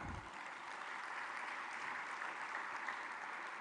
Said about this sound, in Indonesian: Bapak Presiden, kita beri tepuk tangan.